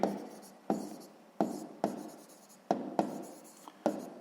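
Chalk strokes on a board during a sixth-grade maths lesson: about eight crisp, close scratchy marks, each starting sharply and fading, spaced roughly half a second apart, with no talk over them.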